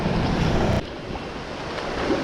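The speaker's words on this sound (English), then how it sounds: "fight these waves" Rough waves at the edge of a swamp during metal detecting, a close, loud churning wash buffeted by wind noise on the microphone, easing abruptly then building again toward the end.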